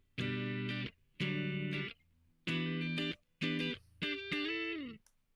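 Electric guitar through a compressor pedal blended for a gentler effect, playing five separate strummed chords with short gaps between them, evenly sustained, close and clear with no voices.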